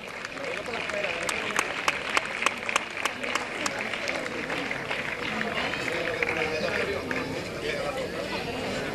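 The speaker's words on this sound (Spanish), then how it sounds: "¿Podemos tocar las palmas?" Spectators clap at a half marathon trophy ceremony in Chipiona, starting with sharp, distinct claps that build into a fuller, continuous applause. An announcer speaks over it.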